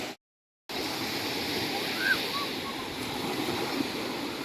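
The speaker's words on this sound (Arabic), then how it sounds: "بصوا الموج هادي جدا" Calm sea waves at a beach wash in a broad, steady roar after a brief silent gap, with soft wind noise and no clear voices.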